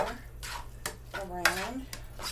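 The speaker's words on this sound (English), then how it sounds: "going to give that a good little stir" Pasta coated in about two tablespoons of garlic butter is stirred in a pot, with a few soft utensil clinks and scrapes over a low hum and what sounds like a nearby voice.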